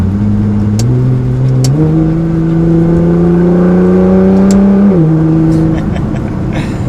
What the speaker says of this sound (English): Should we do an acceleration, Maddie?